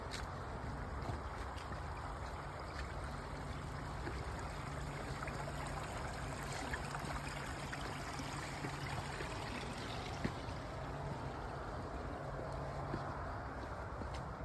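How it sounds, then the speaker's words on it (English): Continuous rushing and trickling of a creek on the Appalachian Trail near Ashby Gap, a steady broadband wash at moderate distance with no voices over it. "creek crossing here right off the bat."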